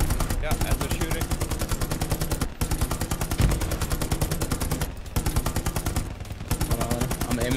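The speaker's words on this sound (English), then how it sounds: "Yeah, and they're shooting." Sustained automatic gunfire fills a World War II game battle in Hell Let Loose, dense rapid bursts broken by a few short gaps, loud and continuous.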